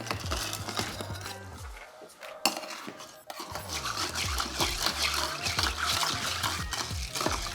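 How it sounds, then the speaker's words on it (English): Crushed pebble ice clatters and splashes into a whiskey julep cup, a steady bright rattle of ice against metal and liquid with a brief lull partway through, close and fairly loud. "Now half fill with crushed or pebble ice."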